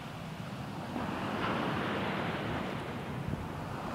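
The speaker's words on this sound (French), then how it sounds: "Des vagues." Ocean waves wash continuously against the shore near the edge of the water, a steady, moderately quiet surf with wind-like rushing throughout and no speech.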